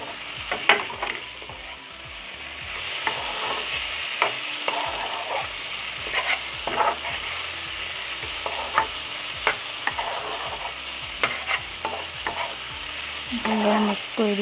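Cauliflower pieces frying in a pan with carrot, capsicum and tomato, a steady close sizzle broken by repeated scraping stirs throughout.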